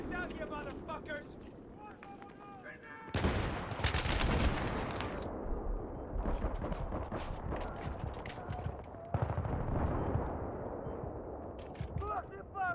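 Battlefield 3 on PS3, a loud chaotic conquest match with bursts of rapid gunfire, heavy explosions and grenade blasts, while players shout and talk over the battle.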